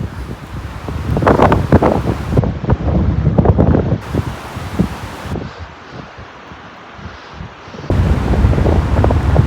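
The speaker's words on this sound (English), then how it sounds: "This is blow your hat off wind." Strong gusty wind sweeps over Beaver Lake at Pictured Rocks, roaring and buffeting close to the microphone in uneven surges, with whitecapped water and rustling growth beneath.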